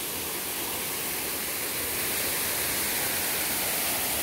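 A waterfall roars as a dense, steady rush of falling water, loud and close, with no talk over it.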